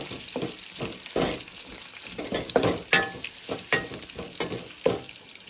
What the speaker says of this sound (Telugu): నేను ఒక రెండు ఉల్లిపాయలు కట్ చేసుకునే కట్ చేసుకుని వేసుకుంటామండి ఇది కూడా బాగా వేగాలండి